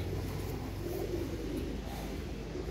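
Pigeons at a seller's loft give a steady low cooing that runs throughout against a dense ambient background, with no clear pauses.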